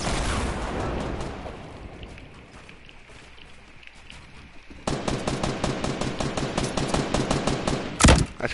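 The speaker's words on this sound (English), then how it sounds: "I'm gonna shoot that guy down." Video game gunfire in a shooter duos match, with a dense, noisy burst that fades, then a loud, fast automatic volley of evenly spaced shots and a heavy blast near the end.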